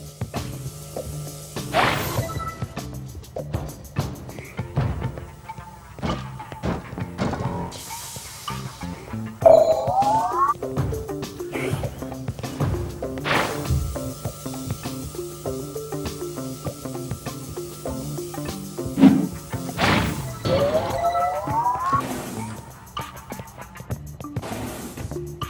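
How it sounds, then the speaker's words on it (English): Glass smashing in the Quantum Conundrum video game, a couple of sharp crashes and whacks amid layered game sound effects, a tonal hum and scattered impacts over about half a minute. "Unfortunately, the breaking of this glass is a necessary evil."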